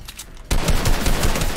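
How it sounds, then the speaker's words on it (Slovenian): Rapid automatic gunfire in the Fortnite video game bursts in after a half-second of quieter sound, a loud dense fusillade of repeated shots continuing to the end. "Dej ne streli ti men tam od spodi."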